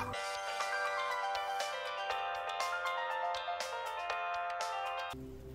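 A phone ringtone plays loud and near, with a bright, repeating melodic pattern that runs for several seconds and then cuts off abruptly.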